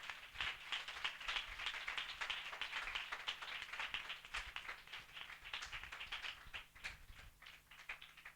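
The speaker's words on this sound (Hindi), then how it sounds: "हम जोरदार ताली से उनका स्वागत करें।" A church congregation at a spiritual assembly claps in welcome, a dense run of overlapping hand claps sustained for several seconds, fairly distant and soft, with no voices over it.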